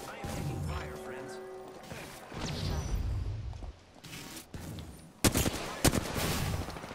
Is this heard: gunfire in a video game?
yes